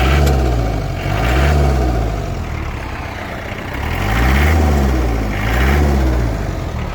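A Kubota X-20 20 hp mini tractor engine runs steadily nearby, its low rumble swelling and easing in slow, even waves.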